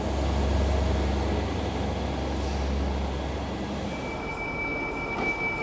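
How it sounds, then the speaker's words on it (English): A Great Western Railway train rumbles at Ely station, a heavy low drone of wheels and motors that eases off, with a thin high squeal rising toward the end. "totally a Great Western Railway train"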